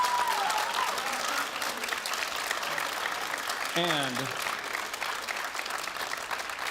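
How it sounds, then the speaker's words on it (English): Parents in the audience at a high school band senior recognition concert applaud, a dense sustained wash of clapping that continues steadily throughout, with a brief voice cutting in partway. "Can you give your parents a round of applause real quick?"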